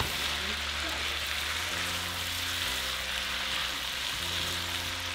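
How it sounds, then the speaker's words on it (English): Beef ribs and nopales fry together in a pan of oil, giving a steady, close, continuous sizzle with a soft crackle and no voices over it. "Now fry them together."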